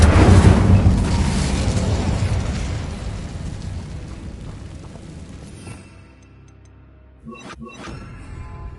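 An Incendio fire spell in Hogwarts Legacy erupts in a loud, roaring burst that booms at once and fades slowly over several seconds, ending with a couple of brief crackling pops.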